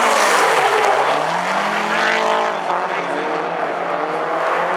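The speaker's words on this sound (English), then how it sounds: "Jack in the lead in that mostly stock Mazda Miata. And Tyler right behind him with a turbocharged 4-cylinder 240SX" A mostly stock Mazda Miata and a turbocharged four-cylinder Nissan 240SX drift in tandem, engines roaring loud and close with continuous revving and pitch swings, tire squeal blended in.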